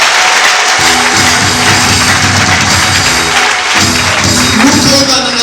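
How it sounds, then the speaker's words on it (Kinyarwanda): A church congregation applauds together during a sermon, a dense continuous wash of clapping that holds steady throughout, with a low voice and tones running underneath. "Dukomere Yesu amashyi menshi."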